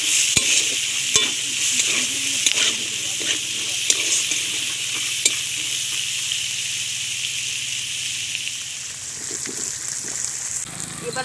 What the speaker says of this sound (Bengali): কচু শাকটা বানানোর জন্য প্রথমে আমি ছোলা দিয়ে দিচ্ছি।